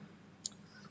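A single sharp computer mouse click, close and brief, alone against faint room hiss while a document is set up in Microsoft Word.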